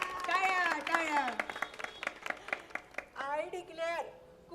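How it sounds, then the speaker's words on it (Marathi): At a mothers-in-law convention, an audience gives a short round of light, rhythmic claps, with people talking before and after. "टाळ्या टाळ्या."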